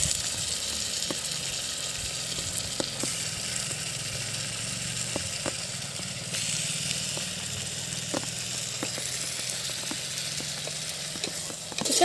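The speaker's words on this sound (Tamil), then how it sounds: "சிக்கன் பீஸ் எல்லாம் எடுத்து கொஞ்சம் கொஞ்சமாக போட்டுக்கலாம்." Chicken pieces drop into a hot pan for Chettinad country chicken gravy and fry with a steady hiss, with scattered sharp clicks and taps of pieces landing and being stirred, alongside a low background hum.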